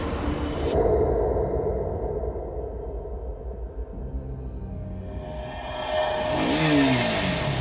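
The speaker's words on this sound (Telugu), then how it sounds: "తన పాత డబ్బా బైక్ తీసుకుని బయలుదేరాడు" An old, battered motorbike engine starts and pulls away, a rough revving drone that rises toward the end as it accelerates, with no talk over it.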